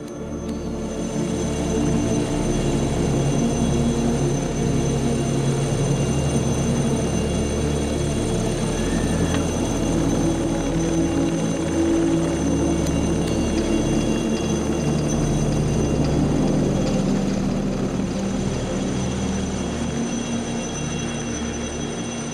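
An Alouette III helicopter working in the Alps during a winching exercise gives a loud, continuous rotor and turbine drone with a high steady whine, close and sustained without a break, and no speech.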